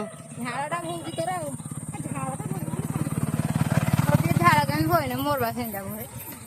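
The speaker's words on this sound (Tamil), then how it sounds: "ஆட்டோ வருது" An auto rickshaw's engine putters steadily and grows louder as it nears, heard beneath people talking.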